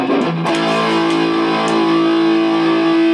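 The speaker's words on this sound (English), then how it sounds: "I like that kind of a distortion sound." A heavily distorted electric guitar chord through a high-gain Hughes & Kettner Spirit of Rock amp rings out loudly after a few picked notes, sustaining with a gritty, buzzing tone.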